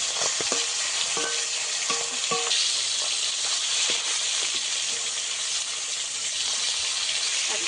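Kalbaus fish pieces from a pond sizzle steadily in hot oil, a loud continuous hiss that runs throughout, with scattered soft clicks and taps of a utensil moving the pieces in the pan.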